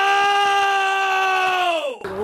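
A man screaming loudly in a public place, one long sustained yell holding a steady pitch before breaking off and dropping at the end, with faint background sounds beneath.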